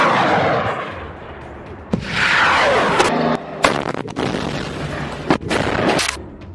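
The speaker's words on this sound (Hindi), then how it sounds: "ये मिसाइलें एक के बाद एक फायर होने लगती हैं" A salvo of rockets launched one after another by Al-Qassam Brigades fighters in Gaza, a loud roaring whoosh followed by a series of sharp blasts and bangs at irregular intervals, with no talk.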